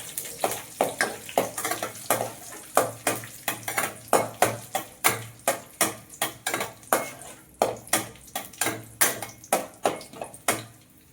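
A metal spoon clatters and scrapes steadily against a pan while cashews fry for carrot halwa, with a quick repeating rhythm of sharp knocks close by and a faint sizzle underneath, and no voices.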